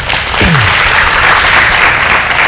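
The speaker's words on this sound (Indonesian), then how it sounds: "Tepuk tangan buat Dokter Daniel" An audience applauds Doctor Daniel after his health talk, a dense, even wash of clapping from many people throughout, loud and close.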